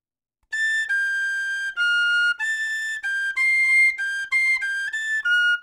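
A tin whistle in F plays a slow melody of clear, pure sustained notes, each separated by short breaks, loud and close with no talking.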